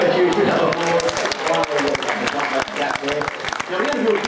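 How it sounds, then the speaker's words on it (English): Crowd applause at a Dreamworld Tiger Island show on the Gold Coast, greeting a tiger's jump: steady, dense clapping across the clip with a host's voice talking over it. "Come on guys, give him a huge round of applause."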